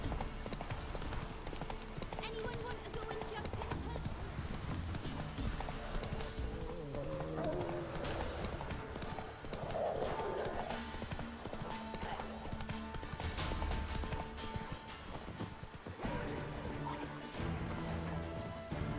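Horse galloping in The Witcher 3, rapid rhythmic clip-clop of hooves with a brief whinny, steady and loud alongside game sounds and occasional low voice.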